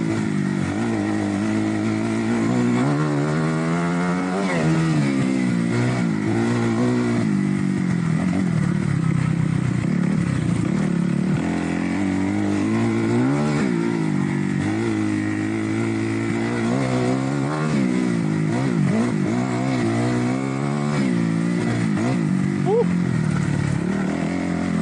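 Dirt bike engine while riding off-road, a continuous loud motor drone that rises and falls with throttle changes and gear shifts, close to the rider with rattling and wind throughout.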